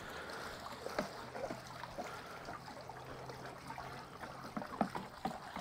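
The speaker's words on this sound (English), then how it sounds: "I really want to make sure that I'm stirring and stirring and stirring." Trap dip liquid is stirred with an old beaver stick fitted with a hook, giving quiet sloshing and trickling water sounds with small splashes and knocks at irregular intervals.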